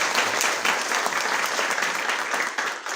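Audience applause at an international education conference greets a speaker being introduced: dense, even clapping from a sizable crowd, loud and sustained for several seconds.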